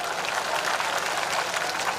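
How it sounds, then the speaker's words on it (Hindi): A crowd claps steadily at an outdoor political rally, a dense, continuous patter of many hands at moderate distance with no voices over it. "अरे इसमें तो ताली बजाओ ना।"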